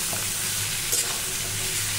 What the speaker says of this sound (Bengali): বন্ধুরা, এখন আমি কুমড়োগুলো ভেজে নিচ্ছি।